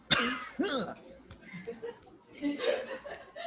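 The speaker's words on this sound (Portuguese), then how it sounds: "Não, eu tossi para dentro." A stifled cough and some throaty, chuckle-like sounds close to the microphone, followed by soft murmuring.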